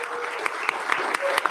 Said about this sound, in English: Golf clap, y'all.